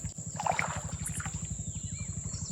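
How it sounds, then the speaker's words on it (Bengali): A small rowing boat moves slowly on water in the Sundarbans mangrove forest, with a steady rhythmic pulse of strokes or creaks repeating evenly and close by, faint birds in the background. "এখন যাচ্ছি ছোট নৌকা নিয়ে আস্তে আস্তে বাইরের দিকে"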